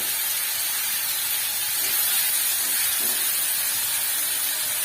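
Water poured into spice paste frying in hot oil for an ilish fish curry gives a loud, steady, broad hiss of steam and sizzle that holds unbroken throughout.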